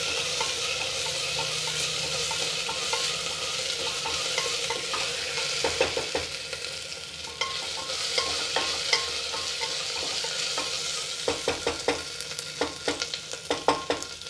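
Ginger garlic paste frying in a pan for vegetable biryani gives a steady close sizzle, with bursts of stirring scrapes and clinks toward the end.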